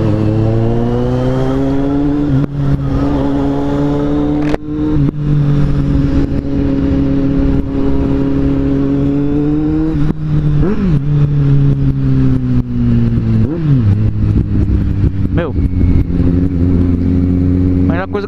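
A motorcycle, apparently a white Kawasaki Z750, fitted with an MIV Suono aftermarket exhaust tip, idles and revs steadily and loudly up close, with a few throttle blips and speech faintly mixed in.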